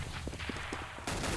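Gunfire in a CS:GO professional match, a Na'Vi versus Virtus.Pro semifinal: a few sharp rifle shots in quick succession over a steady game-noise bed, then a louder sustained burst of ambience near the end.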